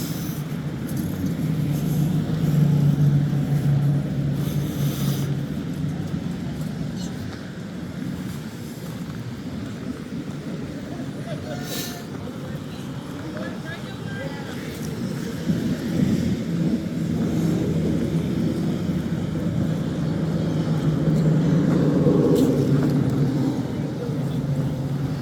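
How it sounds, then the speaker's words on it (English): Steady engine rumble from a truck being driven, a continuous low drone that swells slightly in places and runs throughout without talk. "That's Cindy driving the truck"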